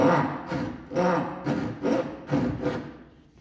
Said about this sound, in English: I take my dovetail saw on the line that I've marked at 45mm